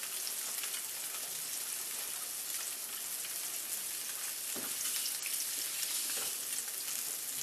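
Blackened salmon frying in a hot pan, a dense continuous sizzle and crackle throughout, close and even with occasional small pops.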